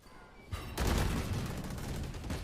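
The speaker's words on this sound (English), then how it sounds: "That's a lot of shooting they can hear going on." Gunfire in a professional Valorant match on the Ascent map, a burst of rapid shots starting abruptly and rattling on continuously, moderately loud and somewhat distant.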